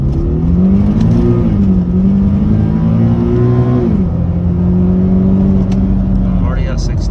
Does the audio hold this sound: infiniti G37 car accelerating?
yes